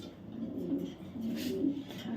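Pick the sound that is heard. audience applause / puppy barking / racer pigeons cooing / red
racer pigeons cooing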